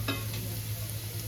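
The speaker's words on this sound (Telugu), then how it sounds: "ఇప్పుడు ఉల్లిగడ్డ కొంచెం ఫ్రై అయింది." Sliced onions with dried red chillies fry in a pan, a constant low sizzle with a few light stirring scrapes, quiet and close.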